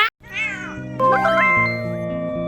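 A pet cat lets out several loud, close meows with rising and falling tones, one after another, with no talking.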